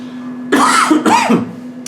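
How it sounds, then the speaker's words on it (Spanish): A man coughs twice in quick succession, close and fairly loud, in a cold room during a Spanish-language Bible lesson, with a faint steady hum underneath. "Le pido disculpas por mi tos"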